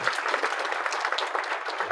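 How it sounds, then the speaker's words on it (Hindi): An audience claps to welcome two guests onto the stage, a rapid, dense spatter of applause heard at a moderate distance and fairly soft, continuing evenly throughout. "जोर से एक बार ताली बजा दो"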